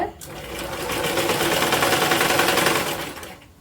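A sewing machine stitches old cloth being made into a bag, giving a loud, steady, rapid mechanical whir that runs nearly the whole time before slowing at the end.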